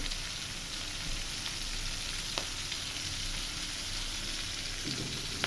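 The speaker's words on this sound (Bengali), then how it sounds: "এখানে আমি কড়াই বসাই দিচ্ছি কড়াই ইয়াতে পেঁয়াজ আর মরিচ দিয়ে দিচ্ছি তেল দিয়ে দিচ্ছি" Onion and green chili fry in fish oil in a wok, a steady, even sizzle held throughout with faint occasional ticks, fairly quiet and with no voices.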